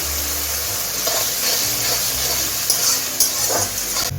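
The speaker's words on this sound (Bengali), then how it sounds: "পেঁয়াজ পেস্টটা আমি 2 মিনিট একটু পেঁয়াজের সঙ্গে কষিয়ে নেব।" Onion paste and onions sizzle together in a pan over medium heat while cooking pomfret dopeyaja, making a close, continuous frying hiss with a few soft stirring clinks.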